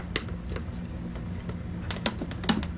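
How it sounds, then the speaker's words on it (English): Whisking cornstarch into vinegar, a rapid, fairly soft clicking and tapping of a whisk against a bowl with irregular louder knocks, close by, with no talking. "And we want to really whisk this good."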